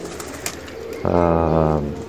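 A Pakistani flying pigeon of a Lakha cross coos once, a low throaty burbling call close by, over faint background hiss.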